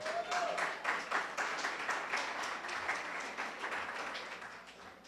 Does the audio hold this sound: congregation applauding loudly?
yes